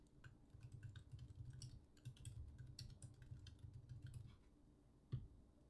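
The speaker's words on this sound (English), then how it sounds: "And I can start typing in notes." Computer keyboard typing while notes are entered into a note-taking app, a steady run of light clicky keystrokes with a low background hum and a slightly louder tap near the end.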